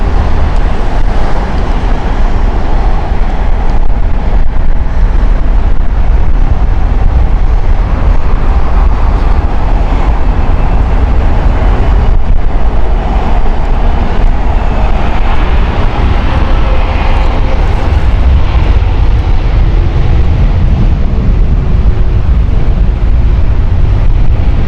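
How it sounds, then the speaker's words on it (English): A brand new Airbus A320neo jet airliner at Heathrow Airport produces a loud, continuous roar with broad rumbling noise that swells and shifts slightly over about twenty-five seconds, with no talking. "This is a brand new Airbus A320neo."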